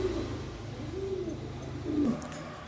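Pigeons cooing softly at a distance, with a few low, rolling coos over a quiet background.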